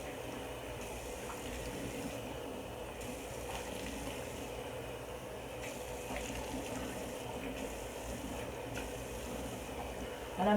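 Lukewarm water running from a tap while a face is rinsed by hand, a steady soft splashing hiss with faint sloshes throughout, fairly quiet and close.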